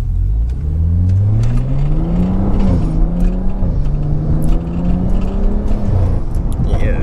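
A Stage 2 rear-wheel-drive BMW accelerates with a steady, loud engine note that rises and shifts pitch under moderate throttle, holding close and continuous throughout.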